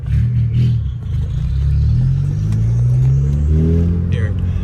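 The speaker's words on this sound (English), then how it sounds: "That's a lot more turbo noise, that's for sure." A straight-piped car engine revs close by with loud, rising turbo whine and a deep exhaust drone, while people talk over it.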